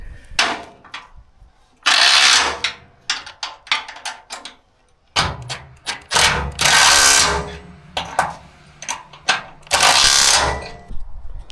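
Power tool tightening front cross member bolts on a 1966 C10 truck, with repeated loud close bursts of whirring and hammering, separated by brief pauses and short mechanical clicks.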